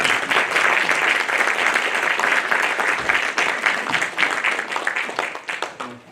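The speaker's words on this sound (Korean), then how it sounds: "권 박사님을 힘찬 박수를 모시겠습니다" An audience at a history forum lecture gives a hearty round of applause to welcome a speaker, dense steady clapping that thins out toward the end.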